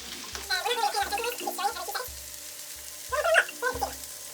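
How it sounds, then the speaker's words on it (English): Potatoes sizzle and fry in hot oil in a pan, with a steady crackling hiss running throughout and low rhythmic thumps in the background. "There is no better sound than potatoes in oil."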